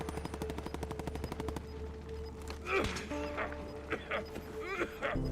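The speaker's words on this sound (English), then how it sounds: "They're shooting over there." Rapid, fairly quiet automatic gunfire in a shooter video game rattles at a steady rhythm at first, followed by scattered thuds and sharper impact sounds.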